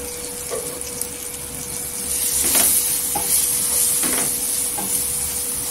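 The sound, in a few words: spices sautéing in oil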